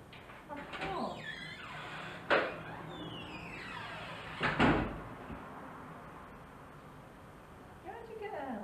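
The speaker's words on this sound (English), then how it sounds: "I can't open the door." A stuck toilet door on a 1994 train from Skipton to Norwich is pushed and rattled, giving a few sharp knocks and clunks over steady train rumble, with muffled voices in the background.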